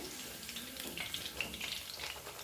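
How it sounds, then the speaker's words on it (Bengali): Chicken pieces frying slowly in hot oil on low heat until reddish-brown, a steady close crackling sizzle with scattered brighter pops throughout and no voices. "আমার চিকেনগুলো এরকম লাল লাল করে সুন্দর করে ভাজা হয়ে গেছে"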